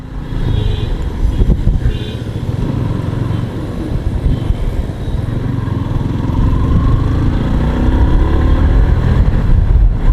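Yamaha R15 V3 motorcycle ridden slowly through city streets, its engine a steady low drone under rushing wind and traffic noise, close and loud.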